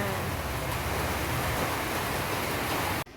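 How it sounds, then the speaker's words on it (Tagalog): First summer rain pours steadily in hot weather, a dense even hiss of drops on surfaces that holds constant before cutting off abruptly near the end. "Makikita nyo yung unang ulan ngayong summer."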